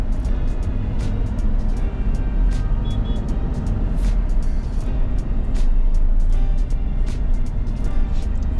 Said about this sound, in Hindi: और ये ट्रैफिक तो ऐसा ही रहता है मोस्टली,